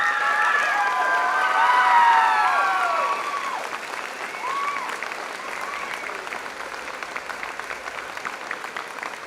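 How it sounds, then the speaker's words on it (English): Applause at a high school senior graduation ceremony in Valders, a sustained, loud crowd clapping that rises early with a voice over it, then settles into steady, even clapping for several seconds. "Please give a round of applause for Jack Hansen"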